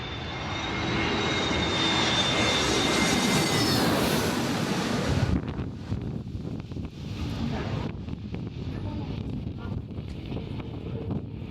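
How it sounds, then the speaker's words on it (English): A plane roars in to land on a short island runway in Greece, the jet noise swelling loud and close, then dropping to a lower rumble as it rolls out. "We headed back through the hills into town to watch a plane land on the short runway."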